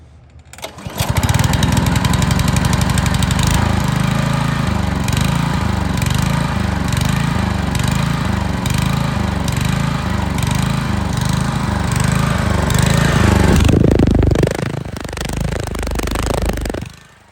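A Honda push lawn mower engine runs steadily while warming up from cold, loud and close with a throbbing, even beat, then tapers off near the end.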